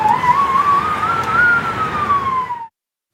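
Police car siren on a highway, a loud, close, wavering wail that rises and falls slowly before cutting off abruptly, followed by silence.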